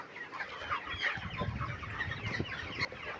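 Chickens in a farm shed clucking eagerly for late feed, a busy overlapping chorus of close clucks and squawks throughout, with no talk.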